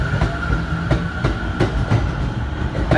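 A train rolls through JR Shinjuku station with steady rhythmic clickety-clack of wheels over rail joints and a faint sustained whine, near and moderately loud, with no voices.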